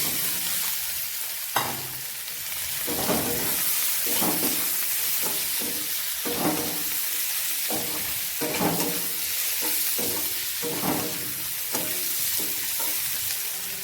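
Spices and prawns fry in hot oil while being stirred, a loud continuous sizzle with repeated scraping strokes of a spoon through the pan at a steady, unhurried rhythm.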